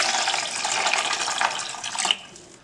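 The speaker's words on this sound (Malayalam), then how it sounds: "വെള്ളം ഒഴിച്ചു കൊടുക്കാം." Water is poured into a bowl of rinsed soya chunks in a kitchen, making a steady, splashy rush that runs for about two seconds and then tapers off. It is close and moderately loud.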